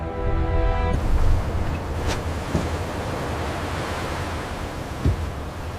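Steady ocean surf washes in a continuous broad rush, with an occasional soft splash standing out.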